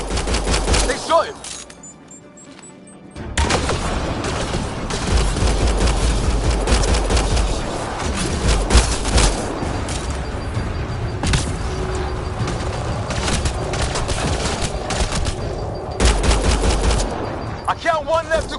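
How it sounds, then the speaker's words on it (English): Heavy bursts of gunfire in the Mass Effect Andromeda video game, loud rapid volleys of shots that drop out for about two seconds and then resume, continuing almost without pause to the end. "They shot him!"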